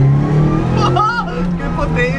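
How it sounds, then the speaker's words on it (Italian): Renault Clio 1.8 Group N rally replica with a limited-slip differential, its engine revving loudly up close on a road drive, the note rising and wavering as a voice talks over it. "Senti l'autobloccante come entra"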